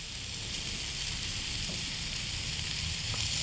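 Burgers sizzling on a Coleman propane two-burner grill, a steady, close hiss of frying that holds evenly throughout with no voices.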